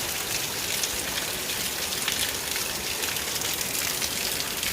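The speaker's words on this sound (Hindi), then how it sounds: "देखिए होने लगी है बारिश" Heavy rain pours down steadily in an Indian village, a dense and constant hiss of drops hitting surfaces nearby. The downpour keeps the same strength throughout and no one talks over it.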